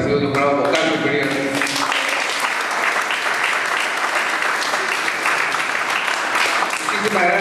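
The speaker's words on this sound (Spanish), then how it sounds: "Y también quisiera un fuerte aplauso porque ha sido nombrado vocal superior." Steady, dense applause from a law lecture audience honoring a newly named senior board member, sustained and fairly loud, with some voices and brief music-like tones mixed in at the start.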